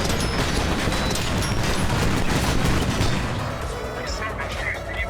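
Dense, loud bursts of gunfire and blasts in the video game Squad crackle in rapid succession, fading slightly toward the end.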